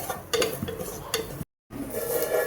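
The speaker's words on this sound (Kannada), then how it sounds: "ತೆಂಗಿನ ತುರಿ ಮತ್ತು ಅದಕ್ಕೆ ಸ್ವಲ್ಪ ಕರಿಬೇವಿನ ಸೊಪ್ಪು ಹಾಕಿ ಫುಲ್ ಫ್ರೈ ಮಾಡಬೇಕು" Grated coconut and curry leaves frying in a pan, close scraping stir strokes over a low sizzle, broken by a brief moment of silence.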